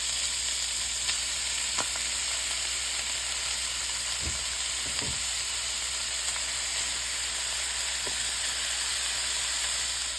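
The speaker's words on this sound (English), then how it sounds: "Okay, so now we're gonna go ahead and add our ground beef." Ground beef sizzles in a hot pan with a loud, steady frying hiss throughout, broken by a few soft low thumps and scrapes.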